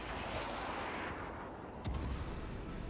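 Battleship main guns firing a salvo in World of Warships: a deep, rumbling boom over a steady roar of distant battle noise, with a sharp crack of firing near the end.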